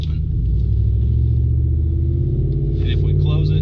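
A Ford F-150 with a 5.0L engine and electric cutout exhaust open pulls along the road, giving a loud, steady, deep rumbling drone throughout, with a faint higher whine near the end.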